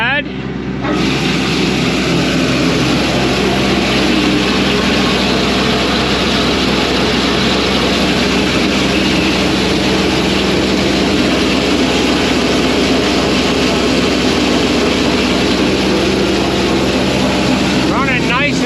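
A combine harvester runs with its grain unloader switched on, a steady loud mechanical drone and rattle holding evenly throughout, heard close up.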